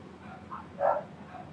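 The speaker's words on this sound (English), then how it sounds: "It also means that dog is annoying." A dog barks a few times in short, faint bursts at a distance. The strongest bark comes near the middle, over a quiet background.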